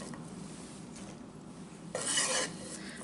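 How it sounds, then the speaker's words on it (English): A medium organic onion, roughly cut, dropped into a stock pot for chicken stock, a soft thud and brief rustling clatter after a quiet stretch of faint kitchen rubbing. "So we'll put our onion in."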